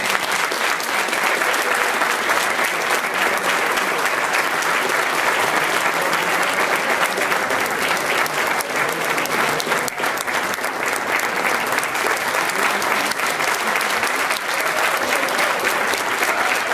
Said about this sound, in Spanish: un fuerte aplauso a su director, José Luis Navarro